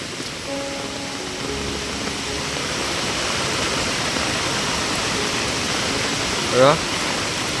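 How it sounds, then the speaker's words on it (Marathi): Monsoon-flooded stream rushing forcefully in a rural village, a continuous loud broadband roar of turbulent water with a brief tonal sound near the end. "इकडे देखील फोर्सनेच पाणी येतोय"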